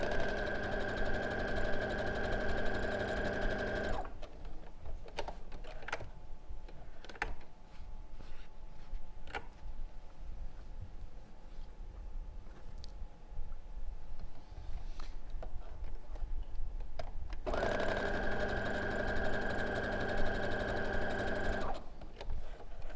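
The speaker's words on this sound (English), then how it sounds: "So we'll sew those 3 rows together" A sewing machine stitches quilt rows together in a steady, close mechanical whir, running for a few seconds, pausing through a quiet stretch with small clicks and handling noises, then starting up again.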